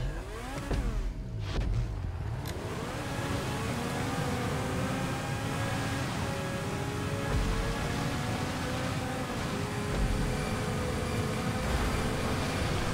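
A train rolls past in GTA 5 Online, a steady loud rumble with drawn-out tonal hum and rising, sliding pitches, continuous across the whole stretch without speech.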